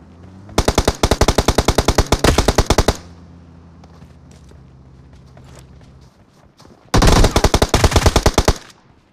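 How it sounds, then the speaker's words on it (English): Automatic gunfire in PUBG Mobile rattles out in two long rapid bursts, a nearby stream of loud shots for over two seconds, then a quieter lull with engine-like rumble before a second burst near the end. "Somebody else is shooting"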